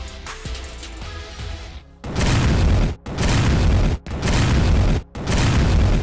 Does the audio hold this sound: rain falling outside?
no